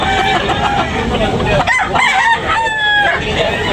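Roosters crow loudly nearby amid a crowded, noisy poultry market in Tabunok, Talisay, Cebu, with clucking fowl and chatter all around.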